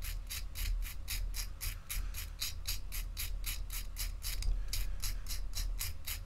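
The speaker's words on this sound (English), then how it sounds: "I scrape it off into a dust because it speeds up the grinding process" Paint pigment is scraped and ground into dust with a steady, rapid rasping rhythm, each stroke a short gritty scratch repeating evenly at close range over a low background hum.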